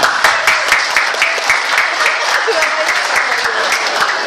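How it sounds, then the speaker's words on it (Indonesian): Loud applause from an audience of teachers at a workshop, a close, fast run of sharp claps continuing steadily throughout. "Tepuk tangan dong."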